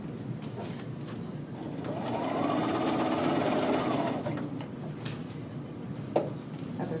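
A sewing machine stitches across a men's shirt collar band, its close, rapid whir swelling for a few seconds mid-run before easing off.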